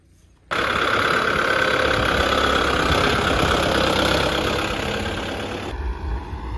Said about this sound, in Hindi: अब हमारा ये ट्रैक्टर का 4x4 रेडी है चालू होने को।